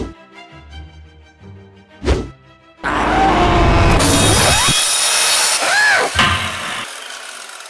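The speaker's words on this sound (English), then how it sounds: "Why is there a wall of saws in there?" A wall of spinning saws in a video game whirs loudly and steadily in a dense grinding roar after a few seconds of game music and thumps, with sweeping metallic tones riding over it.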